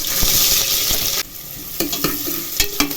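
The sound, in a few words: onions frying in a pan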